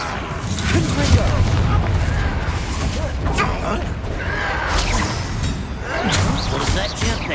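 Spell combat in Hogwarts Legacy fills the clip with booming blasts, crashes and rumbling impacts from a Confringo fire spell, dense and continuous with louder bursts around one and six seconds, while voices shout over the fight.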